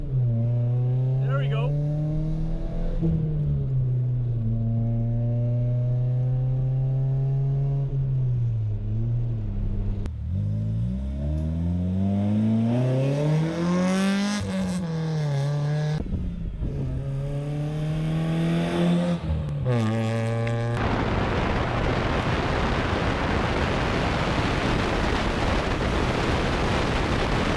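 A 2000 Nissan Sentra SE B15 with an SR20 engine pulls hard from inside the cabin, revving up through several gears with rising and falling engine tones, wind roar building toward the end, and someone speaking briefly over it.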